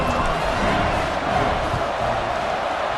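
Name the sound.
stadium crowd buzzing in video game College Football 26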